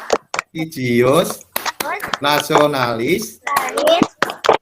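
Schoolchildren in an Indonesian online lesson perform the PPK clap chant, sharp rhythmic claps in short bursts interleaved with chanted voices, close and loud.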